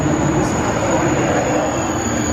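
A train pulls into Paris with a loud, steady rolling rumble of wheels on rails and a faint high whine overhead, close and continuous with no talking.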